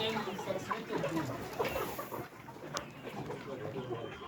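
Chickens clucking on a Kenyan poultry farm, a busy flock murmuring and calling continuously at close range, with background noise and some voices mixed in.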